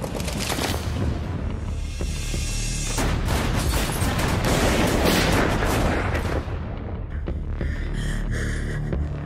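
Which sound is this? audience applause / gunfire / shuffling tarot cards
gunfire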